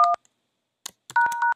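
Telephone keypad DTMF tones sound as an account number is entered: one short dual tone, a gap, then clicks and a longer pair of tones, clear and close.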